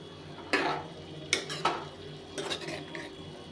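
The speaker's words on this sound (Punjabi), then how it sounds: "ਸਾਰੇ ਮਸਾਲੇ ਦੇ ਵਿੱਚ ਆਪਾਂ ਨੂੰ ਚੰਗੀ ਤਰ੍ਹਾਂ ਮਿਕਸ ਕਰਨਾ" Spoon scraping and knocking in a pan as bottle gourd sabzi is mixed with spices, a few distinct clattering strokes over a faint low sizzle, fairly quiet and close.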